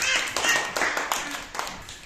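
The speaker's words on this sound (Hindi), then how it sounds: "इनके लिए ताली बजाओ।" Children clap in a small group, a handful of uneven bursts of hand claps spaced across a couple of seconds, close and moderately loud, with a bit of talk underneath.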